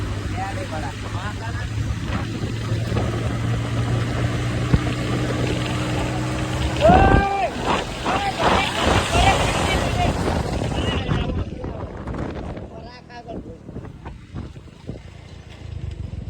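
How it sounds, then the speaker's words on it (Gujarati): A sharp, high-pitched brake squeal from an Arjun Novo 605 tractor with a turbo cuts in over a steady engine drone, briefly rising and falling before fading into continued rumbling and background talk. "બરેક ની રાડ પડી જઈ છે ટ્રેક્ટરમાં"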